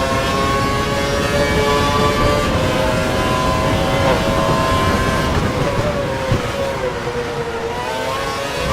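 A voice imitates a Formula 1 car engine with a continuous, loud, buzzing whine that holds its pitch and shifts slightly over about nine seconds.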